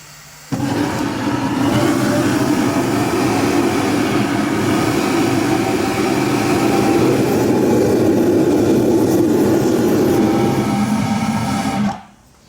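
Steady roaring whoosh of a propane burner firing inside a homemade foundry furnace built from a propane cylinder, lighting abruptly, holding a loud constant rumble for about eleven seconds, then cutting off.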